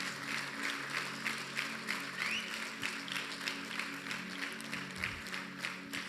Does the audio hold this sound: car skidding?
no